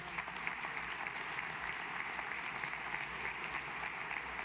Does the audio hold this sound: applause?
yes